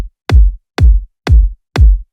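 Layered electronic kick drum with an added punch layer for knock, four heavy thumps at an even rhythm, loud and dry with no other sound.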